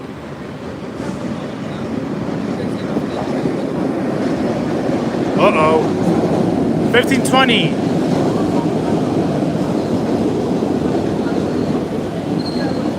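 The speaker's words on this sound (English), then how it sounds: "Here comes an old red line train." An old MBTA Red Line subway train pulls into a downtown station, its steady rumble growing as brief high wheel squeals cut through, while someone talks nearby.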